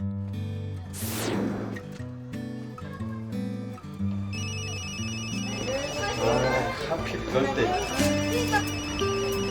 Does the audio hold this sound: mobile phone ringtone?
yes